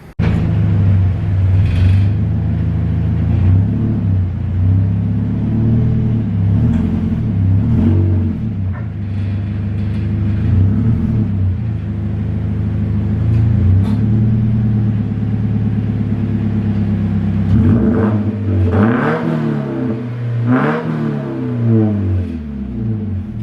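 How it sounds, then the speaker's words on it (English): A Toyota 86-type sports coupe on Tein Street Basis Z coilovers rumbles close by as it is driven back into a garage, its engine droning steadily with a few light revs. "I'm going to pull the car back in the garage"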